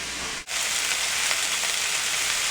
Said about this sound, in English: now we're frying up the chopped meat